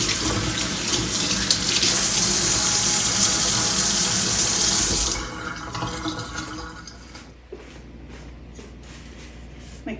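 Rings from canning jars rinsed under a running kitchen tap, a steady loud gush of water for about five seconds that then cuts off, leaving faint drips and light handling.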